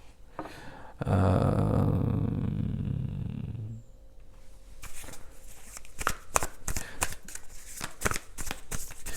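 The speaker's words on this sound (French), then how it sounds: "On va mettre une autre carte sur la tour." A tarot card drawn and set down on a spread: soft card shuffling and sliding, then a series of faint crisp taps and flicks as cards are laid out, quiet and close.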